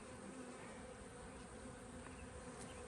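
Honeybees buzzing steadily around an open hive during a beekeeping inspection, a continuous close drone with no voices.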